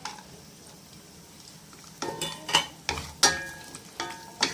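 Cashews and raisins fry and get stirred in a pan, with low sizzling that builds into sharp clattering scrapes and stirring strokes in the second half.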